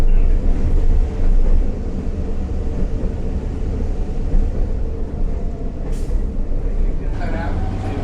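Steady rumble and rattle of the Lehigh Gorge Scenic Railway train heard from inside the caboose by an open side window, loud and continuous with wind noise and a brief hiss partway through.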